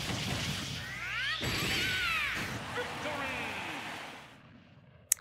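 A Final Smash attack lands in Super Smash Bros Ultimate, a sweeping whooshing burst with rising and falling tones and a roaring wash that fades into a sharp final hit, with a voice talking over it.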